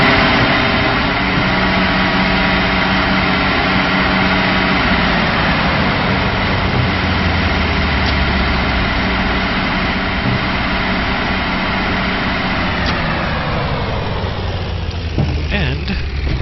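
A submarine engine runs steadily inside a U-boat simulator game, a dense continuous drone with a low hum that shifts slightly near the end, loud and constant throughout.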